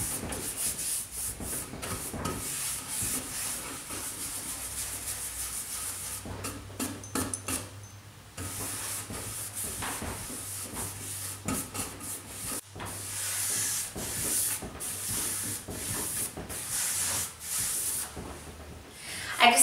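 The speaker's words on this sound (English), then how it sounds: "I'm just going to make sure to get every inch of this dresser with this wax" Clear wax being brushed and rubbed over a wooden dresser finished in milk paint, giving a steady close scratchy rubbing with a soft hiss that runs almost continuously and drops out only for brief pauses.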